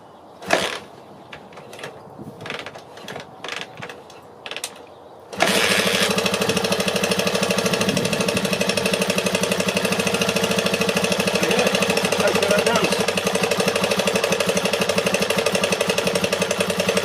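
Barn-find Honda XR250RT motorcycle, stone cold, is kicked over with a few short attempts, then fires and settles into a loud, steady, close single-cylinder chug running on choke.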